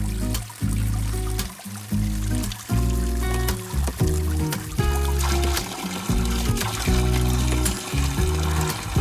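Arm bath in cold water at an outdoor Kneipp facility, with continuous trickling and splashing as water pours and sloshes nearby, fairly loud and without talk.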